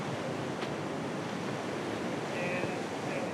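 Ocean surf of three to four foot waves breaking on a beach at Goats, a steady, full rush of wash and wind noise heard alone without talking.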